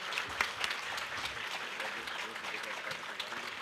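An audience at the official opening of an industry confederation stand claps in a dense, steady patter that stays fairly faint and even, with voices murmuring underneath.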